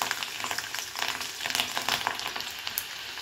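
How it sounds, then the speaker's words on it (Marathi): Chopped garlic frying in about two spoons of hot oil in a kadhai for a tempering, a continuous crackling sizzle with sharp pops throughout, fairly close and with no talking. "लसूण चांगला परतला आहे"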